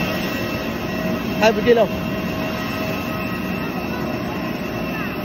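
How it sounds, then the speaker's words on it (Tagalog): A steady jet roar of an airplane at Ozamiz City airport hums continuously and loudly, while a voice briefly speaks over it partway through. "First time na akong sakay og eroplano."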